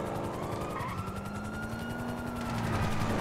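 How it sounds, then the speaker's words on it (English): A police helicopter pursues in the video game GTA 5, its steady rotor drone mixed with wailing police sirens and gunfire-like rattling, loud and continuous. "The chopper is still on us"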